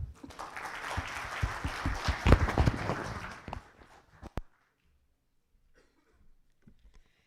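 An audience at an IT sales conference applauds after a presentation with dense, lively clapping for about four seconds. A few last claps follow before it drops to near silence.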